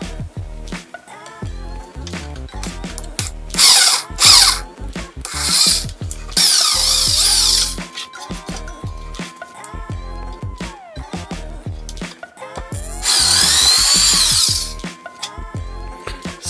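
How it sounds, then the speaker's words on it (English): A power drill pre-drills screw holes in wood for truck-bed camping kitchen drawers, running in several bursts of high whine between handling clatter and knocks, with a steady motor tone carried through the middle. "I'm going to pre-drill some holes so that I can put these screws on"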